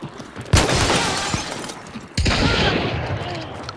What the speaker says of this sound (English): We're getting shot from the south.